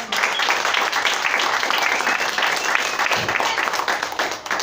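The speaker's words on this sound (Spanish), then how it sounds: "dale un aplauso." Steady crowd applause at a church service filling the whole stretch, dense and continuous, with a faint voice underneath.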